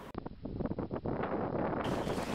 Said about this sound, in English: Wind, it's so windy you can just hear it whistling around.